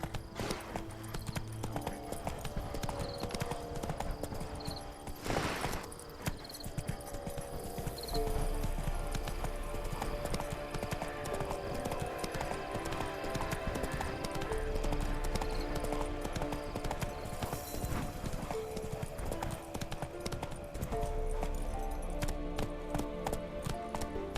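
Roach, the horse in The Witcher 3, gallops in a steady, rapid clip-clop of hooves that runs the whole way through, close and fairly loud, with game music and ambience underneath.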